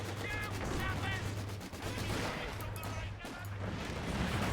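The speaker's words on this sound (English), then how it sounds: "Land mattress artillery on the way." Land Mattress rocket artillery in Company of Heroes 2 fires a rapid barrage of overlapping blasts and crackling impacts over a steady low hum, with a voice faintly present.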